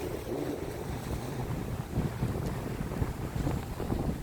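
Strong wind blasts the microphone on an Atlantic Ocean shore, a steady loud roar of buffeting gusts with surf rumbling underneath and no speech.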